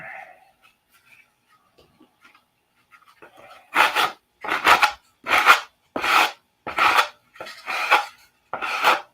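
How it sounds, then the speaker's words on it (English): A car body, a Cobra, is hand-sanded with a sanding block to work out a flat spot: after a quiet start, eight steady rasping strokes sound close by in an even back-and-forth rhythm. "Hopefully we can get it sanded out."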